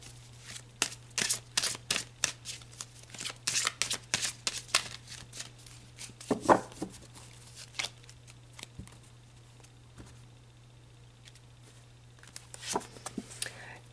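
Tarot cards are shuffled by hand in a quick series of crisp riffles and soft flicks, close and fairly quiet, tapering to sparse taps and slides over a low steady hum.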